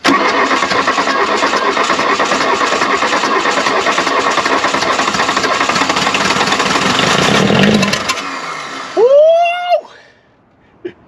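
A wrecked car's engine cranks roughly for several seconds under a dense, loud whirring, then catches and revs up sharply with a rising whine before dropping away near the end.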